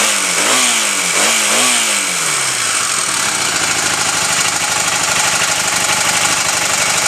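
A 1982 Honda CB450SC Nighthawk motorcycle engine, with its valves still needing adjustment, blips and revs a few times and then settles into a loud, steady, rattling idle recorded up close.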